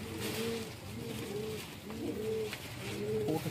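Pigeons coo in repeated throaty bursts, several overlapping calls rolling in steady waves at close range, with no voices.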